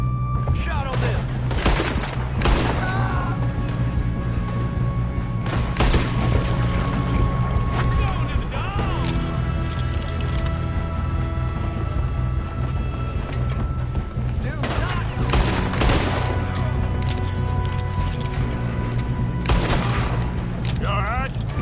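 Repeated gunshots crack through a Red Dead Redemption shootout, sharp bursts recurring among mechanical clatter and a steady background, with shouted voices in the mix throughout.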